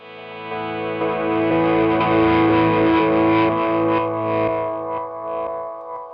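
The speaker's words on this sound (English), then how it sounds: "This is like a reverse delay kind of thing." An electric guitar runs through a reverse delay effect, sustained chords swelling in and out with a pulsing, wavering texture, loud and unbroken for about six seconds with no talking.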